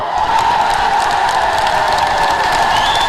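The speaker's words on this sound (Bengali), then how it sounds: "ভাইরা একটু তালি দাও," Men clap at a political rally in Cooch Behar: dense, continuous applause from a large crowd, with the sustained drone of ululation and conch shells still ringing loudly behind it.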